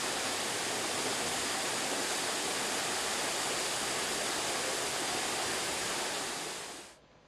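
Steady, dense roar of the waterfall at Soroa, Cuba, a continuous broadband rush filling the whole clip before cutting off abruptly near the end.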